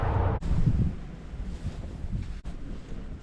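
Gusty wind blows across the microphone outdoors in a garden beside a small shed, a rumbling, buffeting rush that rises and falls with two sharp dropouts and no voices.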